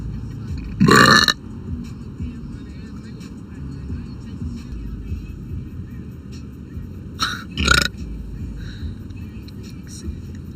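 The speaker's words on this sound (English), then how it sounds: "Who burps louder?" A young woman lets out two loud burps, a long one near the start and a shorter one later, between quieter stretches of background noise and chatter.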